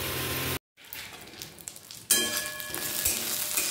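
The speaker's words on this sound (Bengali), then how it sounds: "তারপর আবার নিমটাকে ভাজতে হবে" Neem leaves frying crisp in a pan, a steady broadband sizzle broken by a brief silent gap, then resuming louder with small crackles and pops, close and alone.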